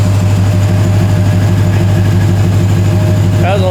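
A 1972 Dodge Demon with a swapped Hellcat engine drones loudly and steadily on a dyno, a deep continuous rumble close by that rises in pitch right at the end.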